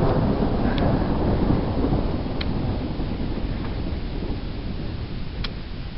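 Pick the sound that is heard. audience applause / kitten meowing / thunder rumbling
thunder rumbling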